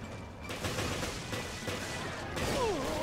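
Rapid bursts of gunfire in the survival-horror video game Resident Evil Revelations, loud and continuous across the whole moment, with a rising electronic whine near the end.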